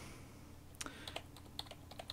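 Computer keyboard keys being typed, a handful of sharp clicks spaced irregularly across two seconds, close and fairly crisp over a low steady hum.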